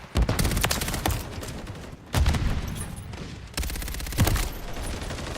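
Video game shooter combat with bursts of automatic gunfire and booming blasts from a stun grenade, loud dense volleys in three clusters with brief gaps, no talking.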